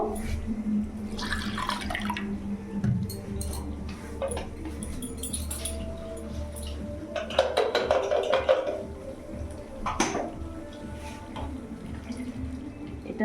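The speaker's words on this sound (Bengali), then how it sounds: "এটা একটু ধুয়ে জল অ্যাড করবো" Water from a tap splashes and drips into a pan of chicken with coriander paste on a gas stove, with faint clinks of utensils; running water swells midway, then trickles and drips, fairly close.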